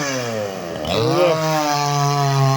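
A nearby chainsaw engine drones, dips briefly, then revs up as it bites into firewood being cut for winter, holding a steady high whine.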